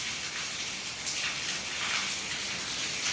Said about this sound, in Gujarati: હવે અત્યારે પાછો જોરદાર વરસે